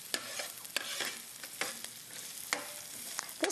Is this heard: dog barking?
no